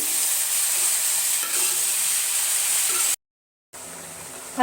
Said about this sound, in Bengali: আর এইদিকে আমি মূলা ভাজিটা বসিয়ে দিয়েছি